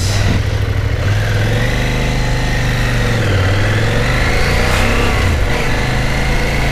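A CFMoto motorcycle engine, started with a key, idles and revs in a steady, loud, close drone with rising and falling pitch throughout, without talk.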